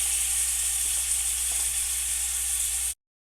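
Chicken thighs laid skin side down in a hot pan, giving a loud, steady, close sizzle and hiss of frying that holds evenly throughout, then cuts off abruptly.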